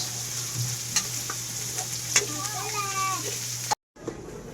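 Pork ribs frying in a pan with garlic and onion, a soft steady sizzle with a few clinks and stirring scrapes, under a persistent low hum, ending in a brief cut.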